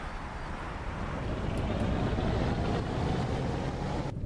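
A bus engine rumbles in the simulator OMSI 2, a continuous low drone that swells after the first second and holds steady before cutting off abruptly near the end.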